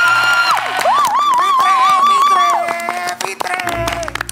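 A studio audience at a university quiz show cheers and claps loudly, with a sustained whooping voice rising over continuous crowd noise and scattered hand claps throughout.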